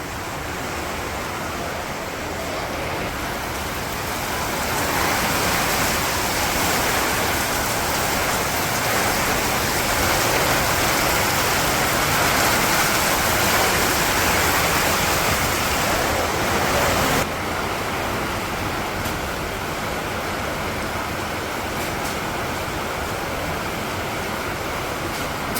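Water trickling and dripping through cracks in a tin roof, a steady broadband rush like light rain that swells slightly mid-way, then drops a little and continues evenly, with no voices.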